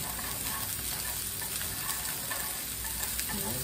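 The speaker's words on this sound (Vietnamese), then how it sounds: "bắt đầu bỏ cái này lên xào, xào cho nó chín đi nha" Food stir-fries in a hot pan with a steady, dense sizzle that holds at an even level throughout, with no speech over it.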